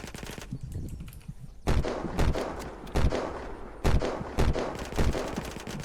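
Repeated bursts of rapid machine gun fire in the game Unturned crack loudly in quick succession, with short pauses between volleys and faint background noise.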